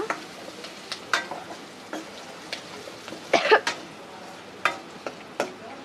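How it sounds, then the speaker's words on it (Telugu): Food lightly frying in a home kitchen pan, heard as faint, scattered crackles and pops over a quiet background with occasional stronger bursts. "ఇవి కొంచెం లైట్గా ఫ్రై అయిపోవాలా"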